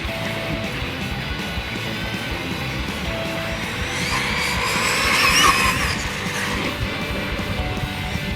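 A small motor whines at high pitch as a fast Arrma RC car races past in a drag race, the buzz swelling louder midway then fading into a steady background roar.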